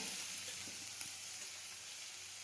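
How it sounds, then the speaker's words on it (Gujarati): Garlic sizzles in hot oil in a pan during kachori preparation, a steady bright crackle with a couple of faint stirring taps, close by and without talk. "થોડીક વાર સાતળી લેવાનું લસણને"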